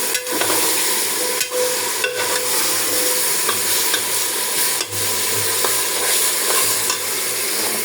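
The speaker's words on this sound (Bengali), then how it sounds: "এখানে গরুর মাংসটা দিয়ে দিলাম" Beef frying in plenty of very hot oil for a beef and potato curry, giving a loud, continuous close sizzle broken by a few stirring scrapes.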